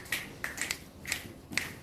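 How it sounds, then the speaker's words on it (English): Several crisp finger snaps ring out during church praise, in an uneven rhythm, four or five sharp clicks close by against a quiet background. "Can you snap your fingers like this?"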